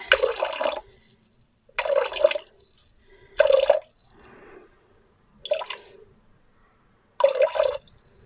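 Liquid, likely a whiskey or vodka hydrosol for making soap, is poured into a container in five short, close bursts separated by pauses, each a bright splashing trickle; no talking.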